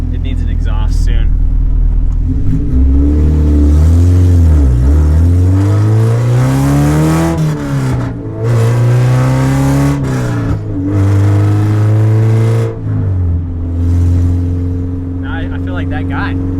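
Honda Civic EK hatchback with a B-series engine and an open header, revving loudly and close by, rising and falling through several pulls with a raw, rumbling note over about sixteen seconds.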